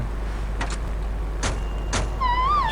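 A stolen car in GTA Vice City hums with a low, steady engine drone, punctuated by a few short bursts and ending in a rising tire squeal as it drifts.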